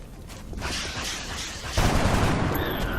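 Soldiers firing weapons in the turn-based strategy game X-COM: Enemy Unknown, a dense burst of gunfire that swells sharply about halfway through and stays loud to the end, with no talking.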